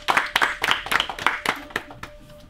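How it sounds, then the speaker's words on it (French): Applause for Tiffany at a support group meeting: a burst of hand claps from a small group, roughly a dozen separate claps in a loose rhythm that thins out and fades over a couple of seconds. "on applaudit Tiffany"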